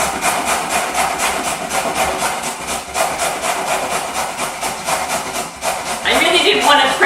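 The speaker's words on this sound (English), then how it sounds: "We're literally just going to grate this off." Food is grated by hand in a home kitchen with quick, rhythmic rasping strokes, fairly close and loud, under some background talk.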